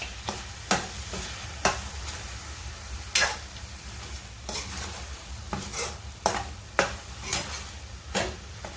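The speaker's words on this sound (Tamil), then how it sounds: "இப்போ நம்ம திறந்துட்டு பெரட்டிடலாம்." Egg curry masala with tomatoes being stirred in a pan for a Mughlai shahi egg curry, with repeated sharp scrapes of a spoon against the pan over a steady low sizzle, heard alone and close.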